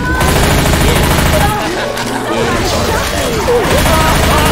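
Dense, loud gunfire from the video game Left 4 Dead 2 rattles almost without pause, rapid shots layered with crashes and other game sounds, with voices shouting over the din.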